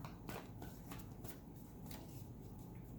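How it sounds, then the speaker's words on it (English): A deck of tarot cards is shuffled quietly by hand in a series of soft riffles and rustles with short snaps, faint and close, no voice heard. "You see me shuffling the cards"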